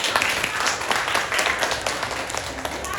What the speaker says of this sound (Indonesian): Semua berarti beri tepuk tangan.